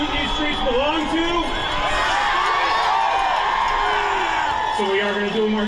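A large crowd at a Minneapolis rally against ICE roars and cheers steadily, a dense wash of voices with whoops rising above it, loud and continuous throughout.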